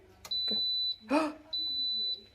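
A canner gives two long, steady high-pitched beeps with a short gap between them, and a voice speaks briefly in the pause.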